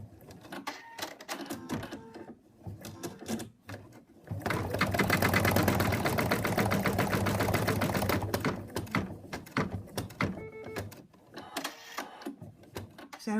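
An embroidery sewing machine stitches a highlight on a cat's nose, its rapid needle chatter rising into a loud, continuous mechanical whir for several seconds, then easing back into shorter stop-start bursts.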